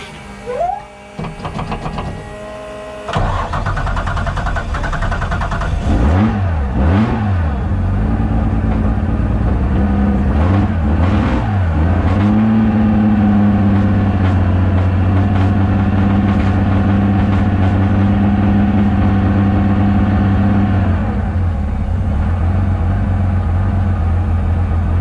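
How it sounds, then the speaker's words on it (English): A car engine is started and left idling in a home shed, running slightly rough with a suspected failing ignition coil. After a short crank the idle is loud and steady, with some revving near the start and a faint uneven beat running through it. "Got a bit of a slight misfire, which I'm going to have a look at shortly."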